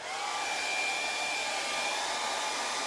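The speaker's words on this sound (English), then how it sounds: "Maybe I should get my hairdryer out." A hair dryer blows steadily and loudly, a constant whooshing hum with a faint high whine, running alone without any talking.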